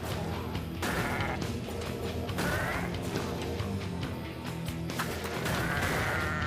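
Video game sheep bleat repeatedly over a busy game soundscape, several loud, wavering baas breaking through clattering and thudding effects over about six seconds.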